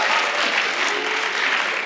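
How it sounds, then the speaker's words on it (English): Applause for a choir at a concert fills the hall with steady, even clapping from a large audience, sustained and fairly loud, ending in a brief sharp sound. "Please give them a huge round of applause."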